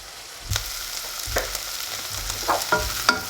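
Onions frying in a pan for a steak pie, with a low sizzle broken by several distinct stirring scrapes and knocks spaced through the clip, close and fairly loud, no voices.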